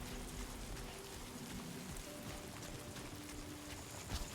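Steady rain falls in Death Stranding 2, a dense, even hiss of drops pattering on surfaces, close and continuous with no voices.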